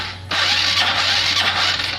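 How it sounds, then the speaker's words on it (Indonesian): A Honda Supra X125 motorcycle's electric starter cranks on a weak battery, a sudden loud whirring grind that starts abruptly and holds steady for a couple of seconds without the engine catching. "Ini saya coba starternya"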